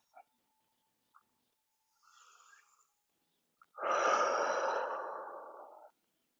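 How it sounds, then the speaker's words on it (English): Deep breathing during a yoga forward fold in a beginner root chakra session: a few faint sniffs, then one long, fairly loud breathy exhale lasting about two seconds, heard alone. "just take a few deep breaths here, dropping a little deeper with each out breath"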